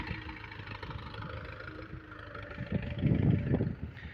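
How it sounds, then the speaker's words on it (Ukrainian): A FORTE RD 404 tractor pulling a disc harrow through a field, its mid-pitched engine droning steadily with wind noise, then growing louder and rougher near the end as the machine works closer. "Так працює трактор, так працює дискова."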